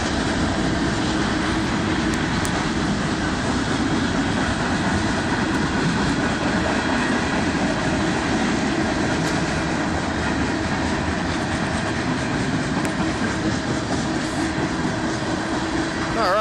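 Canadian National 2268 freight train rolling through Effingham, Illinois, a loud, steady roar of rail cars and wheels passing close by without pause, wheel clatter throughout.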